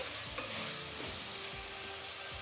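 Onions and tomatoes with salt frying and being stirred in a pan, a steady close sizzle broken by a few soft scraping stirs, no voices.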